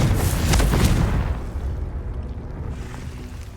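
A Confringo blasting spell explodes in Hogwarts Legacy, a loud booming burst up front that rumbles and decays into a lingering low roar over a few seconds.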